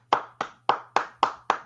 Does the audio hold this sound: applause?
yes